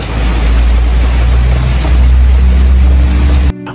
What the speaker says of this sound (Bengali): বৃষ্টির এই রিমঝিম শব্দ